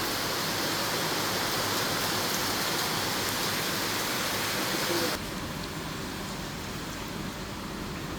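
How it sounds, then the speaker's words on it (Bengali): Heavy rain pouring down outside a resort room in Sreemangal, a dense, even wash of broadband hiss that holds steady and then drops slightly in level partway through. "ভালোই তো বৃষ্টি নামছে অনেক জোরে বৃষ্টি নামছে"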